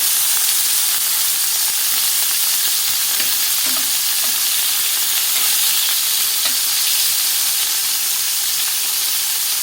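A burger patty frying in a pan gives a loud, continuous hiss and crackle while it is flipped and topped with cheese, with a few soft scraping knocks from the turn.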